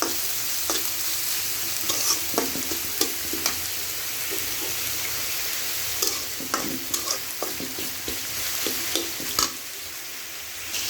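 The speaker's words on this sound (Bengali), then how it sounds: "এখন আমি কিছু পেঁয়াজ কুচি দিয়ে দিলাম। পেঁয়াজ কুচিটাকে ভালো করে নেড়ে হালকা" Chopped onions fry in oil with a constant sizzle, broken by scattered scrapes and taps as they are stirred around the pan. The whole stretch has no talk.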